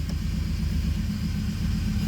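A worn idler pulley on the engine of a beaten, abused 2006 Chevrolet Impala 9C1, an ex-police car, gives a steady low rumbling drone that stays loud and constant with no talking.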